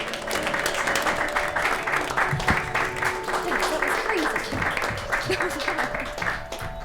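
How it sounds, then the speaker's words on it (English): An audience at a magic show keeps clapping as guests come onstage, a steady moderate wash of applause with voices and some background music mixed underneath. "keep that applause going"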